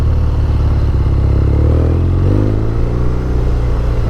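A 2019 BMW R nineT Scrambler motorcycle engine idles loud and close with an uneven, stumbling low throb that shifts slightly partway through, no talk over it.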